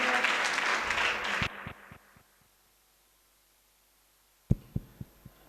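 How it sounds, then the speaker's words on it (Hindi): An audience at a Vedic mantra recitation competition claps loudly to welcome the Vedic reciters, and the applause fades to silence. A few dull, separate thumps follow. "जोरदार तालियों के साथ समस्त वैदिकों का स्वागत कीजिएगा"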